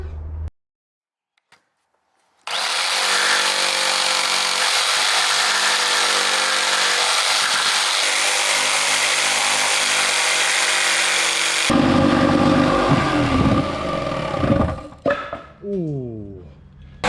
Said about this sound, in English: Time to get the jigsaw out.